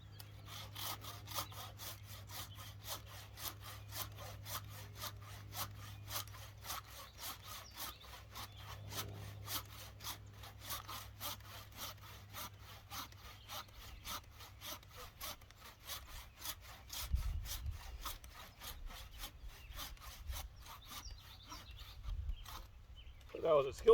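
A tree trunk being cut with a hand saw, its steady back-and-forth strokes rasping through the wood in a quick even rhythm, close and moderately loud, with a low hum underneath and some handling thumps near the end.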